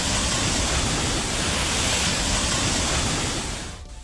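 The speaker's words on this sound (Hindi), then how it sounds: "बरसाती नाला पूरे उफान पर था।" Floodwater roaring loudly and steadily through an overflowing rain-swollen stormwater drain in Dehradun, a dense continuous rush without break that thins and drops away in the final half second.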